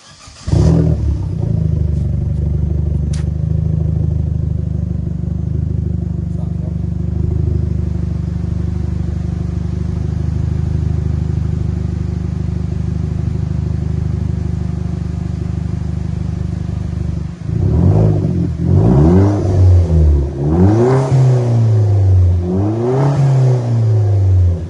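A Vauxhall Corsa VXR Nurburgring Edition with a cat-back exhaust idles with a deep steady burble for a long stretch, then is revved hard several times in rising and falling blips.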